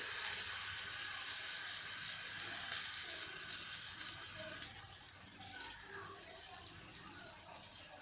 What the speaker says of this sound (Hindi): ये पानी आप चीले के ऊपर डालकर इसको इस तरीके से आप फैला सकते हैं आराम से